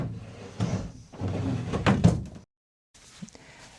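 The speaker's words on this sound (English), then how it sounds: "All the rest of the drawers basically just drop as soon as you open them." A loose wooden drawer that no longer fits its grooves drops with a few scraping, thudding knocks in a close-up indoor space, then everything goes quiet.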